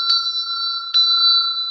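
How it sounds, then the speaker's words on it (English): A swinging bell rings clearly twice, each bright metallic strike followed by a sustained ringing tone that carries on alone. "You'll hear the bell ring."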